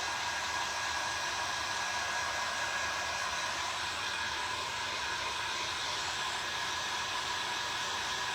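Hair dryer blowing steadily on a resin mould, a loud continuous rushing whoosh with a high whine, unbroken from start to finish.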